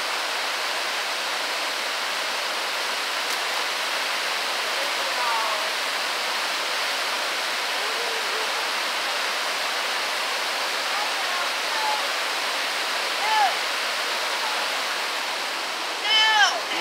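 An Appalachian river flows in a steady, broadband rush of water that stays even and close throughout, with a few faint chirps and splashes surfacing briefly near the end.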